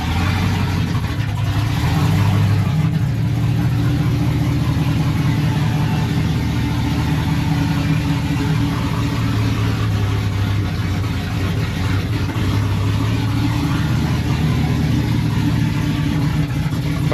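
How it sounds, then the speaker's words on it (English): A Chevrolet Silverado pickup's engine runs steadily after being brought back to life, with a slight misfire, holding a loud, continuous low rumble at close range with no talking. "Finally, we were able to turn this truck on."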